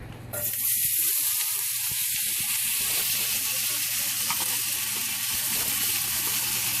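Chopped jalapeno, shallot, garlic and grated fresh ginger hit hot olive oil and burst into a loud, steady sizzle that holds evenly throughout, with no talking.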